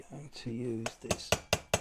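A hammer's flat face taps the rear capping of a 1/6 scale Armortek Series 1 Land Rover model, four sharp evenly spaced taps close by, following a short spoken phrase.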